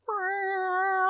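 A single pet cat gives one drawn-out, clear meow close by, a steady tonal cry lasting about a second and rising slightly in loudness toward the end, with no other sound around it.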